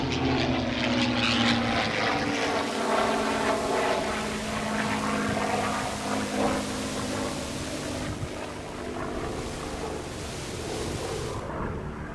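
Steady propeller engine drone of a P-51 Mustang, loud and close, with slowly shifting pitch as the plane performs a slow aileron roll overhead; no voices.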